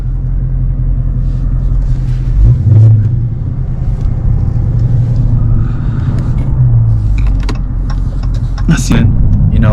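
A Dodge Scat Pack Widebody's engine rumbles low and steady in stop-and-go traffic, with a couple of brief swells as it pulls away, heard from inside the car under some faint background noise.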